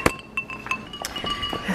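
Glasses clink together in a toast indoors at a house: several bright, ringing taps in quick succession over about two seconds, close and clear, with no talking.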